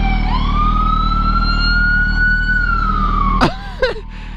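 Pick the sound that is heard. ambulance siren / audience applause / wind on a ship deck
ambulance siren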